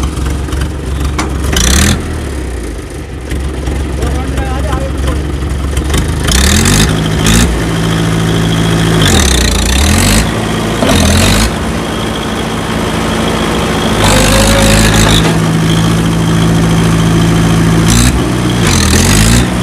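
Diesel engine of a 735 FE tractor at a tractor market, loud and close, idling and then revving repeatedly as the tractor moves forward and back, with no talk over it.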